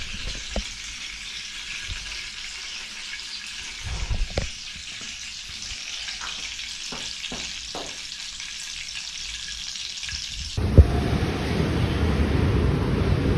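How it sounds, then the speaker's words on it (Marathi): Vegetables frying on a small gas stove, a steady close sizzle with occasional stirring clatters, shifting to a louder, rougher hiss near the end. "माझ्यासाठी भाजी करायला लागले सकाळी उठून"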